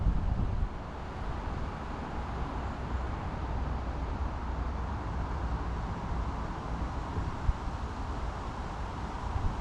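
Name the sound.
gusty wind at a fishing lake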